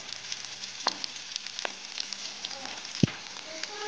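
Capsicum fritters fry in a pan over a medium gas flame, giving a steady soft sizzle with scattered crackles and small pops close by and no talk.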